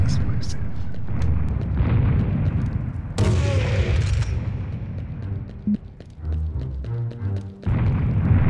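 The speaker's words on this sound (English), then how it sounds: "they're certainly firing something explosive" Booming rocket explosions in the Serious Sam HD: The Second Encounter shooter, a dense, continuous roar of blasts with a sharp new burst midway, loud and close, with a voice talking over parts of it.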